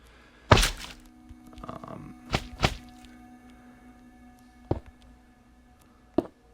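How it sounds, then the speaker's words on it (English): Blocks are placed in Minecraft Bedrock Edition while building a slime block tank, making a few dull, close thunks spaced irregularly over quiet background, one louder placement near the start. "what you want to do is you want to place a sticky piston right there"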